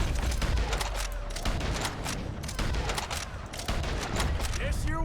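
Bolt-action rifle and other gunfire in the Dune video game, rapid loud shots and bursts cracking in close succession, with a voice talking underneath.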